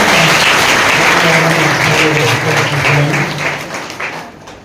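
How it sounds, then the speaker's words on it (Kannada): Loud applause from a school audience at a legal awareness program held at a government high school in Jaganur, dense sustained clapping that gradually tapers off toward the end. "ಜೋರಾದ ಚಪ್ಪಾಳೆ."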